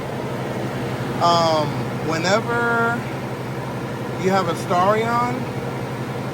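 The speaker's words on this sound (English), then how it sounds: "excuse the fan noise. I'm actually cooling this vehicle down" Radiator cooling fans on a Mitsubishi Starion run as a steady broadband whoosh with a low hum throughout, while someone talks over them.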